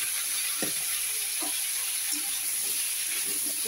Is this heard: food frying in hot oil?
yes